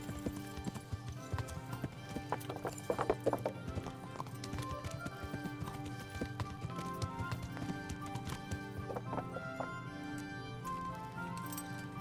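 Hooves pound in a fast, steady gallop as a horse runs in Kingdom Come: Deliverance, close and continuous over sustained background music, with a brief whinny and no talking.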